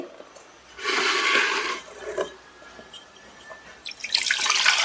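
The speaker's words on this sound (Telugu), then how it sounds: "దీనికి మనం ఇంకొక లీటర్ నీళ్ళు కలపాలండి" Water being poured into a bucket, with a broad splashing burst early on, a quieter dribble in the middle, and a second strong gush near the end, close up with no talking.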